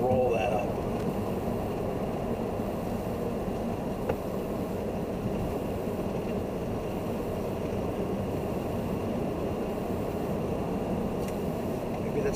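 Road noise inside a 2013 Hyundai Veloster Turbo rolling down a slight incline in sixth gear with the window open, a steady broadband rumble and wind roar, fairly quiet and continuous without a break.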